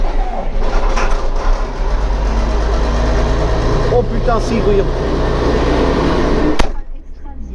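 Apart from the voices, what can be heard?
engine starting up after fuel pump primes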